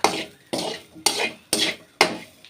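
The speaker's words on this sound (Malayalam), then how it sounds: "ഞാൻ അത് നല്ലോണം ഇളക്കി കൊടുക്കാം" A utensil stirs pappadam thoran with a little chili powder in a pan, making five regular scraping strokes about half a second apart, close and clear with no talking.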